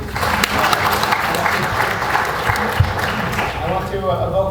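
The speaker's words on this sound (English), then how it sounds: "Give yourselves a round of applause for coming." Audience applause fills a room at a 72nd anniversary dinner: steady, dense clapping from many hands, fairly loud and continuous throughout, with voices mixed in beneath it.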